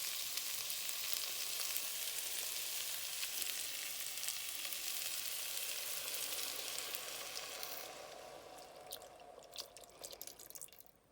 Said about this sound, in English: I'll just give them a bit of a coating in the butter.